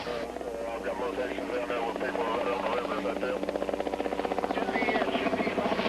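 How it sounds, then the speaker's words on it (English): A helicopter's rotor thumps and buzzes steadily, the rhythmic chopping growing stronger and more distinct toward the end as it draws closer. "Then you could hear the chopper coming up over the hill."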